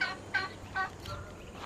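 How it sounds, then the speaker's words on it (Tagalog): Fowl call near shamo gamecock chickens on a Filipino farm that also keeps turkeys and ducks: three or four short gobbling bursts in quick succession, close and moderately loud. "Ito yung mga shamo."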